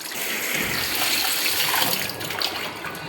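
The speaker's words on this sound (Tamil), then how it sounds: "இப்போ நல்லது அந்த அரிசி கழிஞ்ச தண்ணி ஊற்றி ஒரு வாட்டி அலசிடுவோம்." Rice-washing water is poured over fish being rinsed in a home kitchen, a steady close splashing and gushing of liquid that runs continuously without any talk.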